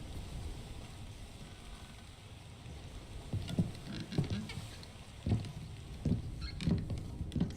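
Steady rainfall in Return of the Obra Dinn, a soft continuous hiss with scattered low creaks and thumps rising over it, heard alone at moderate distance.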